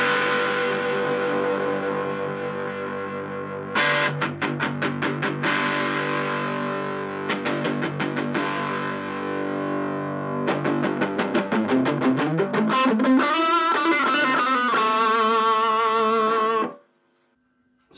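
An electric guitar played through a Blackstar Fly 3 mini amp set to an open Marshall-style tone gives loud distorted chords and palm-muted chugs, then sustained bending notes, before cutting off abruptly near the end, with no talking.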